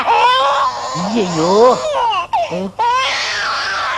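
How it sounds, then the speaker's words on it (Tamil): An infant wails loudly in rising and falling sobs that break into short gasps, with people's voices mixed in. "அண்ணே குழந்தை அழுகுது"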